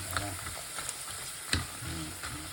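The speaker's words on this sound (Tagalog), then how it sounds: "Habang mainit yung mantika, halo-halo nyo lang." Chicharon frying in hot oil while being stirred, a steady close crackle and sizzle with a few sharper pops and scraping stir sounds.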